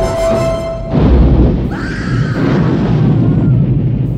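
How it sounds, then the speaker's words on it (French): A deep, heavy explosion from the 1983 film Jaws 3-D bursts out after a short lead-in, followed by a long rumbling roar and debris-like crackle that fades slowly. "Allez, dégagez. Ça va péter."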